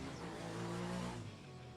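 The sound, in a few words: Formula Student race cars driving on the main straight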